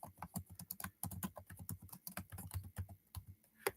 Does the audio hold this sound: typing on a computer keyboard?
yes